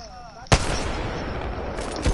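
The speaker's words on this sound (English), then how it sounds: "Why are you shooting at me?" Gunfire in an online multiplayer shooter game, a sharp close shot followed by a dense stretch of rapid fire and another loud blast near the end, with a faint voice early on.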